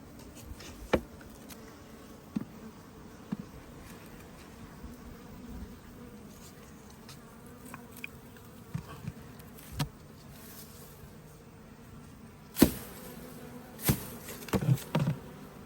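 A swarm of bees buzzes continuously at low level, with scattered louder thumps and handling knocks near the end and no talking.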